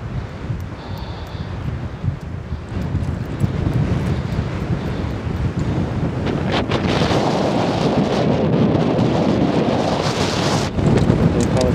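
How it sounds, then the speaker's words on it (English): Strong, cold wind blowing outdoors in an open basin area, loud continuous buffeting and roaring against the microphone, swelling stronger in gusts toward the end, with no voices. "sure is windy today."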